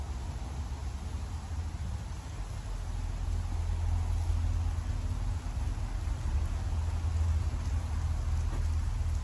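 Steady rain falling outdoors at an open-air museum of historic buildings, a continuous soft hiss with low rumble, growing slightly heavier midway, no voices.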